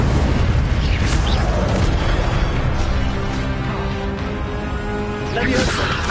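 A fire spell, Incendio, goes off in a video game as a booming burst with a rumbling, crackling tail, while a voice speaks over the effect.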